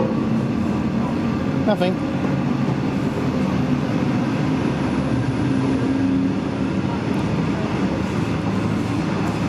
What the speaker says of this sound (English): This has got both engines running at once. That's why it's so loud and epic.